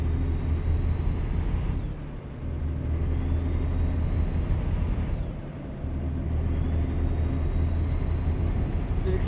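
A heavy truck in American Truck Simulator rolls downhill on the road Denver to Moab, a steady low engine and road rumble picking up speed, broken by two brief dips in the drone, with no talk.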